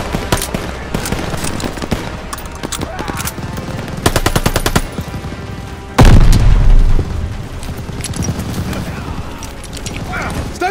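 Heavy gunfire in a Call of Duty: Vanguard battle at Operation Tonga, with rapid machine-gun bursts, a rattling stutter of shots and a loud boom around the middle, set against shouted battlefield orders.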